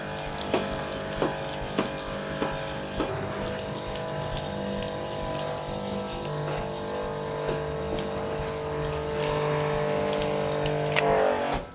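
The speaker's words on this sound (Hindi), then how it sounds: "अगर मैं इसे दबाऊँ तो बस इसमें से नॉर्मल पानी ही आता है।" A Bosch pressure cleaner drawing water from a bucket sprays plain water through an accessory while cars are washed. A steady close hiss and pump drone run throughout, marked by a few sharp clicks early on and a surge near the end.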